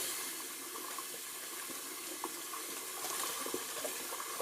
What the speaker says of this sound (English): let me just rinse out my bowl real quick before I rinse this alum off my face